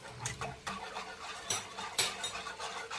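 Quick, uneven clinks and scrapes of a whisk against a bowl, whisking a custard batter mixture in short bursts, close and fairly quiet.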